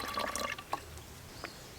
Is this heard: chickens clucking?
no